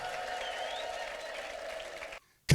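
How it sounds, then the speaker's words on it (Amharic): A church congregation applauds and ululates together, dense sustained clapping with a high trilling tone on top, ending abruptly. "እልልታ ጭብጨባ ለጌታ"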